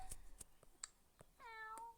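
A cat meows once, a short rising and falling cry, faint and close in a quiet indoor room, amid a few small clicks and taps.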